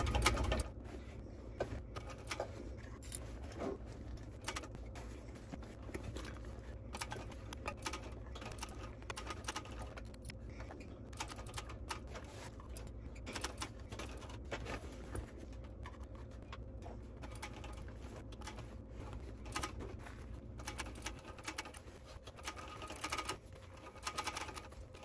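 A sewing machine top stitching a Windsor bag hums and patters in a continuous close run, with rapid needle ticks under a steady, moderately quiet whir.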